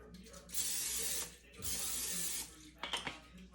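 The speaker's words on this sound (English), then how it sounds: "what I'm gonna do is spray my air fryer pan." Two long hissing bursts of cooking spray coat an air fryer pan, each about a second, followed by a few clinks and rattles of the pan, close and fairly quiet.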